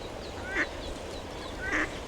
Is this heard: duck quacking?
yes